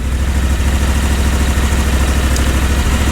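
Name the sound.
Kawasaki FR730V engine idling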